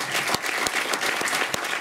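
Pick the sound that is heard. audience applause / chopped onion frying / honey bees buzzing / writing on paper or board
audience applause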